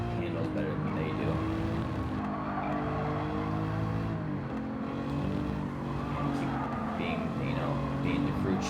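A four-wheel-drive race car in Gran Turismo 7 drones at sustained high revs with tire squeal and skidding, the engine note shifting as it corners, while someone talks over it.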